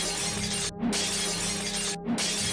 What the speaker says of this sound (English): I like how the glass sound effects cut off before the sound stops.